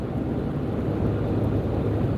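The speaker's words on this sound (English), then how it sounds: "Yeah, it's windy as ever out here right now." Strong wind buffets a microphone outdoors, a steady, loud low roar that continues without break and with no other sounds on top.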